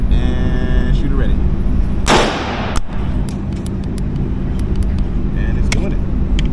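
A rifle fitted with an Armaspec SRS, using FN ammunition, fires one loud, sharp shot outdoors that decays into a rumbling echo, followed by faint mechanical clicks as the action cycles over steady background noise.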